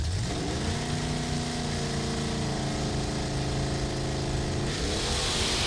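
Drag racing cars, a Mustang against a Cutlass, launching at Luskville Dragway: a loud, continuous engine roar whose pitch sweeps upward through the gears, then holds steady and climbs again near the end.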